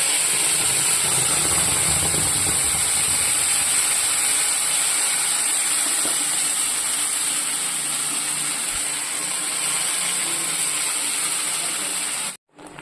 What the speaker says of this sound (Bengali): ওই তেলের মধ্যে অল্প একটু জিরে ফোড়ন দিয়ে দেবো, গোটা জিরে।